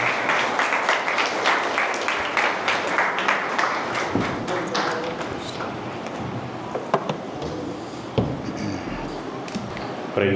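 Hands clapping in rhythm at a youth church meeting, a steady run of sharp claps that holds through the whole stretch, with a few louder single claps near the end.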